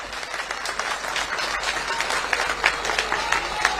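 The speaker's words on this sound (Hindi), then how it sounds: "जोर से ताली बजाइए जरा" Crowd applause at a political rally in Delhi, a dense, steady wash of clapping that fills the space from start to finish at even loudness with a few sharper bursts toward the end.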